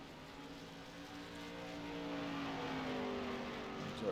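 A race car engine in a sim racing game, a steady moderately loud drone with a tone that slowly rises and swells as the car approaches, heard without talk.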